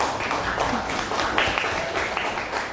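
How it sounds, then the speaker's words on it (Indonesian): Loud, sustained applause from a classroom group clapping together, dense and continuous throughout. "Beri tepuk tangan untuk Dinda."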